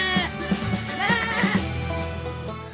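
Sheep on a farm bleat repeatedly in wavering, nasal calls that overlap one another, fairly loud and close, with no voices.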